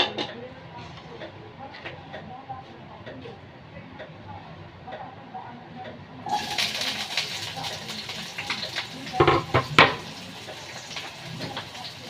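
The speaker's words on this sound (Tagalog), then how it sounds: "samahan niyo ako mag-gisa ng bawang sibuyas at yung patatas" Garlic, onion and potatoes sizzle in a pan, a soft crackling sauté that swells louder partway through with clinks of utensils, under ongoing speech.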